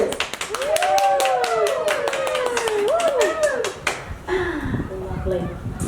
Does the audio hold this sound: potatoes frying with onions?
no